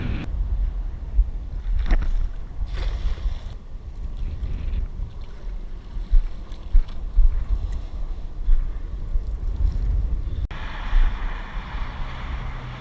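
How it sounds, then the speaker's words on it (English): Steady wind buffets the microphone with a low rumble and gusts, over lapping water and a boat's hull in Key West, with no talking. "Just another windy day in paradise"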